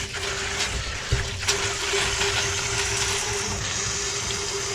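Water drains from the plumbing of a 2005 Jayco Seneca RV during winterization, making a steady, continuous rushing flow with a faint tonal hum underneath. It runs unbroken for several seconds with no voices.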